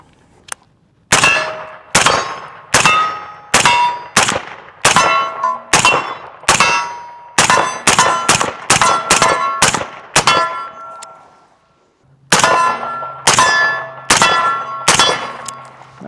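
Ruger SFAR rifle fired with a suppressor using Hornady Black ammunition: about twenty sharp, loud reports in an uneven string, often in quick pairs or runs, then a pause of about two seconds and a final burst of four or five shots.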